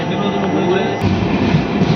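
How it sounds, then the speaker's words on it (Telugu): The Cherlapalli-Trivandrum Amrit Bharat train rushes past at a crossing near Ramannapet with a loud, steady rail roar and rumble that holds throughout. "చెర్లపల్లి త్రివేంద్రం అమృత్ భారత్ వెళ్ళిపోతుంది."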